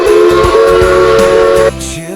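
The steam whistle of a Christmas train sounds one loud, sustained blast over a musical backing, cutting off abruptly before the music carries on more quietly.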